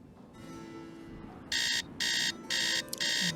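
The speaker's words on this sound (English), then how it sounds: "We want to set the alarm." An alarm clock in a Nancy Drew video game rings in four loud, evenly spaced bursts of harsh electronic buzzing, each about a third of a second, with quieter game ambience and a click beforehand.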